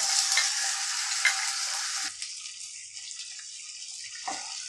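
Loud hissing sizzle of ginger-garlic paste frying in hot oil for a couple of seconds, then it dies down to quieter scraping of a spoon stirring.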